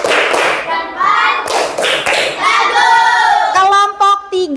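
Classroom of pupils doing a rhythmic 'thumbs' clap for a classmate: a run of quick group claps and thumps, fairly loud and close, mixed with children's chanting voices throughout.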